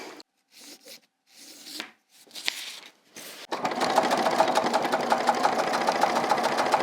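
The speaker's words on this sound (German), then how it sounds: "die könnt ihr dann anlegen und einmal hier in der Mitte absteppen" Sewing machine stitching a line down the middle of a tote bag's pocket, running steadily and fairly close for about three seconds after a few short rustles and handling sounds.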